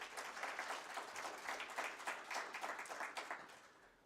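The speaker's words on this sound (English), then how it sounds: "Give her another round of applause," An audience applauds a speaker after an inaugural lecture on structural inequality, steady hand clapping from a hall crowd, fairly soft and distant, holding evenly for about four seconds.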